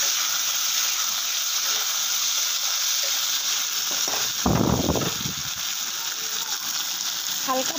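Onion and tomato fry in oil in a pan, giving a steady loud sizzle and hiss throughout, with a brief louder burst of crackling and stirring in the middle.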